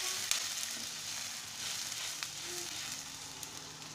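Vegetables for a fish curry frying in a pan, a steady close sizzle and hiss that runs throughout with occasional small pops and faint stirring scrapes.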